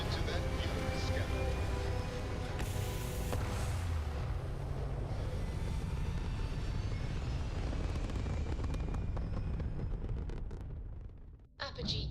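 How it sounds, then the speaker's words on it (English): A spaceship lifts off in Starfield with a sustained deep roaring rumble of engines that holds steady and loud, then tapers off near the end, with a voice speaking over it. "Liftoff initiated, Captain."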